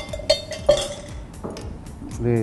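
A spoon stirs an egg and cooked chicken mixture in a pan, with several sharp metallic clinks and scrapes against the pan, spaced irregularly, and a brief voice at the end.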